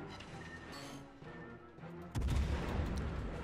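Heavy naval gunfire from the Soviet cruiser Novosibirsk in World of Warships, a dense rumbling blast that swells suddenly and stays loud over a steady backdrop of battle ambience.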